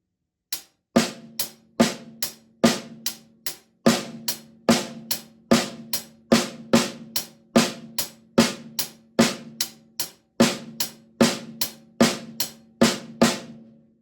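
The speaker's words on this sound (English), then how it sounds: "we're taking our triple paradiddle and we're going to create a groove. We're using our hi-hat and our snare drum" Triple paradiddle groove played with hands alone on hi-hat and snare drum, a steady run of sharp, close strokes with regular accented hits repeating evenly throughout, loud and dry with no talking.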